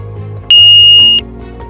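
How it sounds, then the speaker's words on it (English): A Plant1 dharā soil-free auto-watering smart planter gives a single loud, high electronic beep lasting under a second as its button is held, over a faint low background hum. "press and hold the button until you hear a beep"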